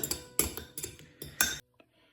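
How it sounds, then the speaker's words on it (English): Quick metallic clinks of a fork whisking yeast and caster sugar in a bowl, about four distinct taps in a loose rhythm, close and fairly faint, ending in quiet. "with a fork, give it a mix"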